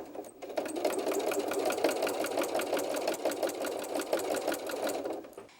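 A sewing machine stitches pieces of a fabric baby bib, running steadily and close by with a fast, even mechanical chatter for several seconds before slowing at the end.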